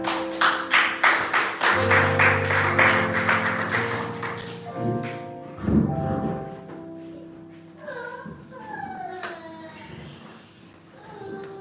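A church congregation applauds in a quick, rhythmic burst of claps over singing voices for about two seconds, then the clapping gives way to voices and tones.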